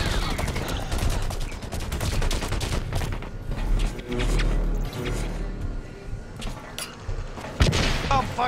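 Rapid gunfire in the shooter Blacklight, with dense, sustained bursts of shots and a few thuds over about eight seconds, heard loud and close with a little talk mixed in.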